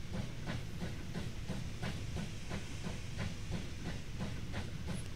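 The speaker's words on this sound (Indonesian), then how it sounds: "Aku nanjak gunung guys keretanya. Keren. Keretanya nanjak gunung." A video-game steam train climbing a mountain in Wobbly Life chuffs in a steady, even rhythm under a constant hiss, with faint clattering wheels, moderately close.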